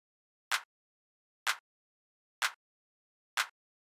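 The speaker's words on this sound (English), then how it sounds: "So the last sound that we have here is the clap" Short, tight minimal house clap sample struck four times at an even, steady pace, each hit crisp and dry with a quick decay into silence.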